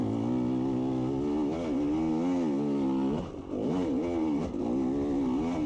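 An off-road motorcycle engine howls under open throttle on a rough trail, its pitch wavering and surging as the bike bucks over bumps, loud and close with a brief dip midway.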